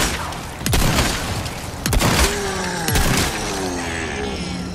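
A new gun in Resident Evil 4 Remake fires three loud, sharp booming shots roughly a second apart, each followed by a short ringing tail and mechanical clatter.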